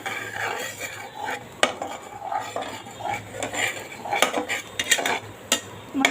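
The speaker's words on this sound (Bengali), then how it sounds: "তো এখানে শুধু আমি মাছটা অ্যাড করব" Pieces of fish, already fried with salt and turmeric, go into a pan for braising; a utensil clatters and scrapes against the pan in irregular, fairly loud knocks as it stirs.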